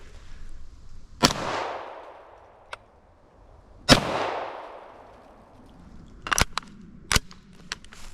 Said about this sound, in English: let's start off with 2 shots unsuppressed